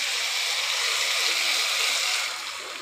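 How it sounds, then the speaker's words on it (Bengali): Water pours into a pan of sautéed potatoes for a tomato and capsicum egg curry, a steady close rushing hiss that holds evenly and then eases slightly at the end. "এবার আমি জল ঢেলে দিচ্ছি।"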